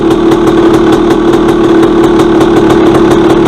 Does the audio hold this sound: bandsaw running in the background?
no